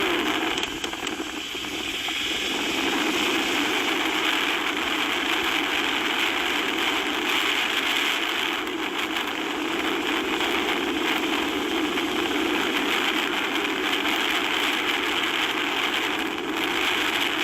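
A small engine runs steadily at light throttle with the clutch slipping through repeated slow U-turns, a continuous moderately loud hum with slight rises and dips and no talk.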